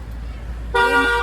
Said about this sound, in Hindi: ये गाड़ी का हॉर्न सुन के मैं डर ही गई